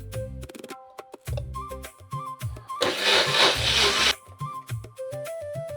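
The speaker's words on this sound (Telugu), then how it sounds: "దీన్ని మిక్సీ వేసేసుకొని మటన్ పెట్టేసుకుందాం." A mixer grinder whirs loudly for just over a second, grinding cooled onions into paste, set among a backing of music with plucked tones and beats.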